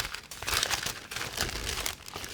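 Plastic wrapping crinkles and tears as a Logitech G515 Lightspeed TKL keyboard is unwrapped, with steady, close crumpling that rises and falls in bursts for about two seconds.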